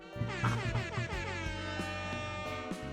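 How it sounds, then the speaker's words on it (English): A loud, blaring air horn effect sounds repeatedly in a brassy, wavering blast, with stuttering pitch changes throughout. "hit my air horn command"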